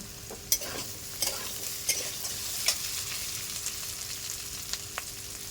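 Squash, carrot, beans and capsicum are stir-fried in a pan with a steady sizzle, broken by sharp scrapes and clacks of a stirring utensil every second or so.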